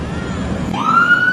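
A Dallas fire truck siren rises in a sharp upward wail near the end, loud over a rumbling street background.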